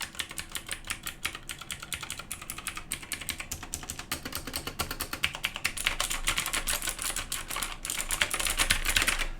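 Rapid, continuous clacking of blue switches on a budget MageGee MK1 mechanical gaming keyboard, close and crisp with uneven bursts of keystrokes and no talking.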